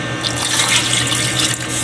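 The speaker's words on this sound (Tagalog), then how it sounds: "Lagyan natin ng kunting tubig" Water pours steadily into a pot, a brief close splashing trickle with a faint metallic ring underneath.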